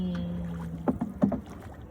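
Oars or a paddle dip and splash a few times as a wooden rowboat moves across a lake, with a steady low hum of the water and boat underneath and two clear strokes in the middle.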